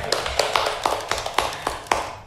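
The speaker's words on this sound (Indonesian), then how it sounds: "Ya, tepuk tangan buat kita semuanya." A small audience of university students at a casual talk-show gathering claps in a sparse, uneven rhythm, with distinct, fairly close individual hand claps.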